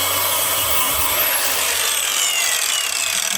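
Steady, loud abrasive rasping as burnt, charred friction material is ground off the flywheel of an LT4-swapped 1967 Chevy C10, one continuous scraping sound with no talk.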